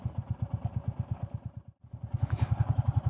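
A Royal Enfield Classic 350 single-cylinder motorcycle thumps along a sandy gravel road, its steady pulsing exhaust close and loud, briefly dropping out before resuming with crunching gravel and wind.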